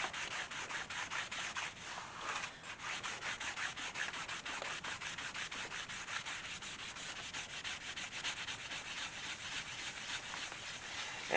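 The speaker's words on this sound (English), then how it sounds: "And again, I'm just buffing that." Tan dye being buffed along the edge of a leather guitar strap gives a steady, close rubbing, a brisk continuous friction that never lets up and carries no voices.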